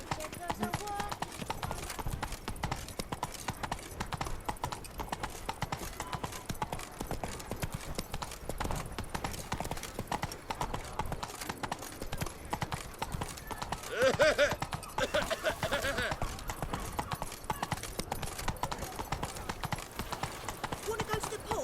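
Hooves of Roach, a horse in The Witcher 3, clip-clop in a steady even walking rhythm throughout, close and clear, while someone talks over them.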